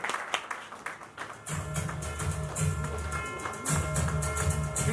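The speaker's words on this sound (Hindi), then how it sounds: "Ladies and gentlemen, a big round of applause for Tinu Verma ji." Audience applause for legendary action director Tinu Verma at a Rashtriya Samaj award event, a dense sustained roar of clapping swelling in after a brief pause, steady and loud, with a short dip before surging again.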